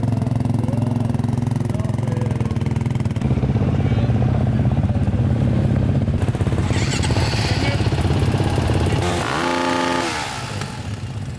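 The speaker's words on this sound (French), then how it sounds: "La moto ne dépasse pas les 114 décibels réglementaires." An enduro motorcycle at a beach race tech inspection revs hard and close during a decibel sound check, a sustained loud engine roar that climbs, holds, then drops with a few sharp throttle blips near the end.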